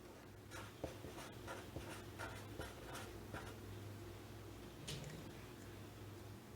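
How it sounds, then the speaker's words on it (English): Faint, scratchy strokes of writing on a board during a classroom science lesson, coming in short irregular bursts over a low steady room hum. "So I'm going to write inferences right here, and I'll put the definition right here."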